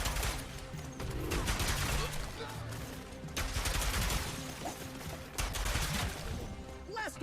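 Rapid gunfire and blaster shots in the PS5 game Ratchet & Clank: Rift Apart, dense bursts layered with explosions and game effects, loud and continuous with a brief lull midway.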